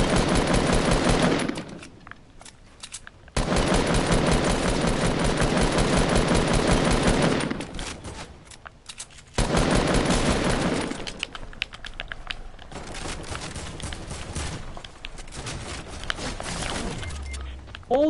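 Machine gun fire in the Fortnite video game: long, loud bursts of rapid automatic shots separated by short gaps, then scattered single shots and a faint rumble to finish.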